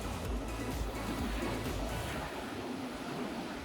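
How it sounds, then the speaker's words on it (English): Winter ocean waves wash steadily onto a beach in Gangwon-do, Korea, a continuous broadband rush of surf with light wind, close and fairly loud throughout. "Listen to the winter ocean waves."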